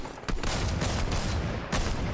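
Rapid bursts of gunfire in the video game Fortnite, dense and loud, with two sharp volleys across a short stretch.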